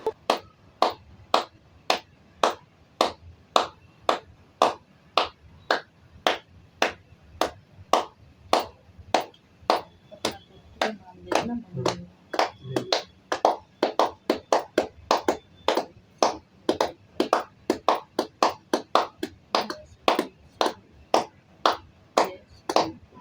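Steady rhythmic hand clapping at a Tulsi Vivah ritual on Dev Uthani Ekadashi, sharp evenly spaced claps continuing for over twenty seconds, close and fairly loud, with a brief murmur of voices partway through.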